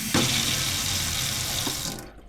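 A newly installed tap aboard a sailboat runs cold water in a steady, close hiss and splash that stops abruptly near the end.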